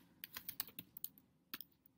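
Someone types a short entry on a computer keyboard, a quick run of crisp, close keystrokes with one short pause before a final tap. The setting is otherwise quiet.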